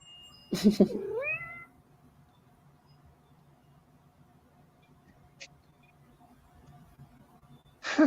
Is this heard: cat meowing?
yes